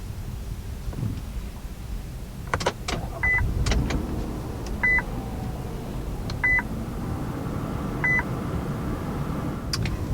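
Pressing the push-button start on a 2020 Infiniti QX60 brings a few soft clicks, then a series of short, evenly spaced electronic chimes over a quiet cabin hum.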